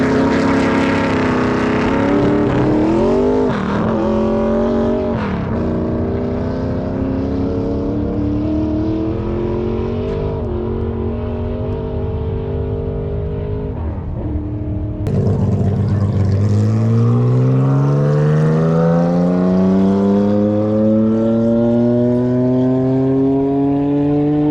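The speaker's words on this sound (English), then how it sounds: "once they get going, you'll see the push car peel off and they just take off." Land speed race cars at Bonneville Salt Flats, engines roaring loud and close as they rev and accelerate, pitch climbing steadily, with a second engine surging in midway; no talking.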